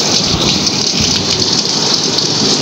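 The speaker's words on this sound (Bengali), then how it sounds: "ছাদের উপরে পানি পড়ছে।" Heavy rain pours steadily onto a wet rooftop during a thunderstorm with strong wind, a dense continuous hiss close by with no voices.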